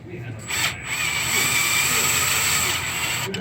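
Power drill boring out EGR bolts on a 6.7 diesel engine, a steady, loud whine running almost the whole time after a brief start, with a short pause near the beginning.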